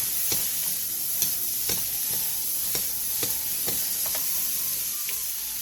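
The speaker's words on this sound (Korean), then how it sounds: "그 다음 파프리카와 피망을 넣고 30초 정도 골고루 섞일 정도로만 볶아주세요" Paprika and bell peppers stir-fried in a pan give a constant close sizzle broken by regular scraping clacks of the spatula, roughly two per second.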